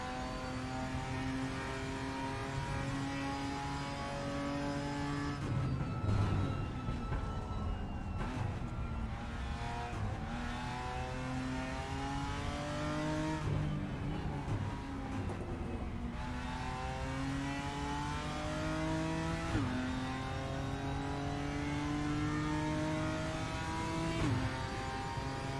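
A race car engine in the sim racing game RaceRoom, loud and continuous, revving up through the gears with repeated shift drops and rising pitch sweeps, sustained with no talk.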